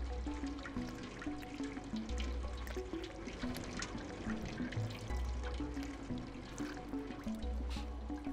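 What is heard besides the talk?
water dripping and pouring in Stray video game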